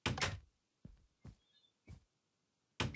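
Door closing sounds in Minecraft, a few short, quiet thuds and clacks spaced apart with near silence between them, no voices.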